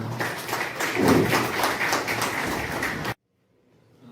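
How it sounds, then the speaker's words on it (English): Audience applause at a government engineering college campus placement drive, a dense steady wash of clapping from a crowd that runs for about three seconds and then cuts off abruptly into near silence. "Give a big round of applause for Amitabh Rosal sir."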